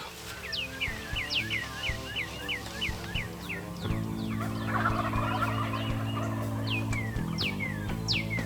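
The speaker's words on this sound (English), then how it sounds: "I'd say there's turkeys over there." Wild turkeys gobble repeatedly in the open Kansas countryside, a steady run of rattling calls at moderate distance, overlapping one another, with a constant low hum beneath.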